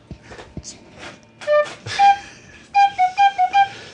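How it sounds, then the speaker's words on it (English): A small tin whistle plays a handful of short, bright notes, a couple at first and then a quick run of five in a row, close and clear over a faint background. "You brought a little flute. My little tin whistle."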